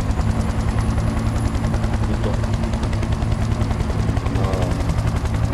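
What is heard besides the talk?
helicopter flying overhead in a video game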